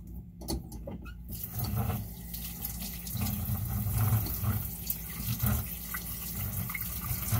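Tap water running into a sink while warm water is drawn for homemade playdough, a steady close splashing stream that continues throughout with no speech over it.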